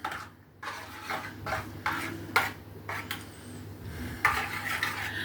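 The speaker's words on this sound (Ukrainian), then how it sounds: "Додаємо до соусу, вимішуємо старанно." A spoon scrapes and clinks against a pot while stirring a thick, hot cheese sauce with melting cheese, with irregular metallic taps close up.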